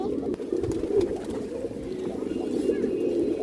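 Domestic pigeons cooing nearby in a soft, repeated rolling murmur that runs throughout, with someone talking over the birds.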